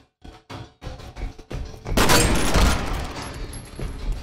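A shotgun fires in the video game FEAR: a few sharp shots up front give way to a loud, roaring blast that rings on and slowly fades, with no talk.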